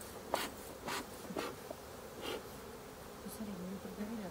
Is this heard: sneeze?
no